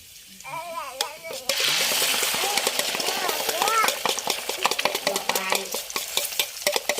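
Cauliflower and egg are stir-fried in a pan, starting with a quick crack and bursting into loud close sizzling with repeated scraping and clinking of a spatula, while someone talks over the cooking.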